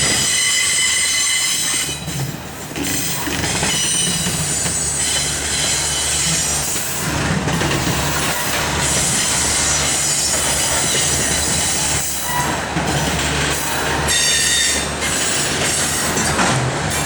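A CSX freight train of refrigerated boxcars crosses from the SFC line over a crossover onto the main near Mount Holly. Wheels screech loudly and continuously, with rumbling and rhythmic clatter as the cars roll past close by.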